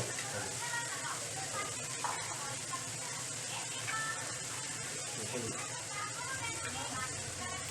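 An onion and tomato mixture with garam masala and bay leaf frying in a pan for Bengali fish curry, a dense, continuous close sizzle with a voice talking over it.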